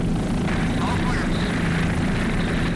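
A helicopter flies over a Key West powerboat race, its steady broadband rotor and engine roar filling the scene continuously, loud and unbroken, with no voices on top.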